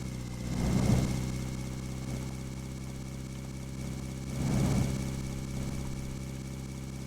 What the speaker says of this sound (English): Sounds like the engine's doing a little better now.